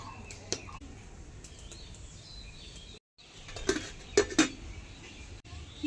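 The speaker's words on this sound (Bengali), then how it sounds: "ঠিক আছে, খিচুড়ির হাঁড়ি উনুনে বসিয়ে দিচ্ছি।" A metal pot of khichuri, a rice and lentil dish, set on a home stove, making a few clanking knocks of metal against metal close by, with faint birdsong in the quiet room.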